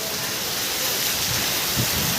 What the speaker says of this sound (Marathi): आणि लय जोरात सुटला मित्रांनो पाऊस